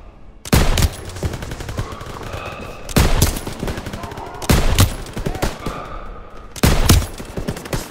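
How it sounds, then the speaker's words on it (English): Bursts of machine gun fire from Call of Duty: WWII, a battle at a bridge over the Seine: four loud, rapid volleys at a steady pace with quieter crackling battle noise between them. "MGs, open fire. Keep them off that bridge."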